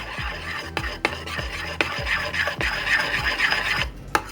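A spoon stirring beer batter for vegan fish tacos in a bowl, with a soft scraping swish and a few sharp clinks against the side. The sound is close and continues for several strokes, with no talking.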